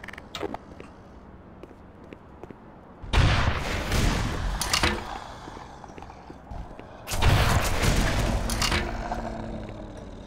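Gunfire and explosions in the Black Mesa video game, including a bazooka, come as two loud booming bursts a few seconds apart, each with a rumbling tail, over a quiet background.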